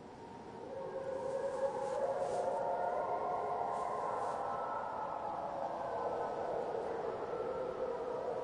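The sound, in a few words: wolves howling in the distance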